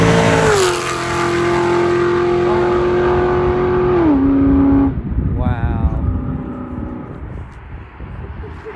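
A Chevy SS (Holden Commodore) fitted with aftermarket headers revs loudly and close, its engine note climbing and holding before shifting, then settling into a rough, rumbling drive-off.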